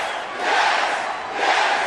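A wrestling arena crowd roars and chants in the WWE Mayhem video game. Two swelling waves of loud cheering rise and fall with no talk over them.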